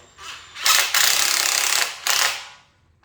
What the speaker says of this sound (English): I'm just going to screw the rest of these in and to see how that holds